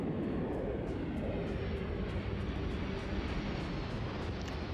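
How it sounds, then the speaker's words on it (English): A spaceship engine in Starfield fires up as a steady, loud, broad roar that rumbles low and holds without break, like a jet or aircraft engine running close by. "It's because it is an engine firing up."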